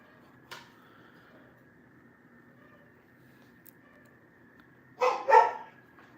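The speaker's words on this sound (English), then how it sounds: "I have to let these dogs in." Dogs barking, one distant yip early on, then a couple of sharp close barks near the end over a quiet background hum.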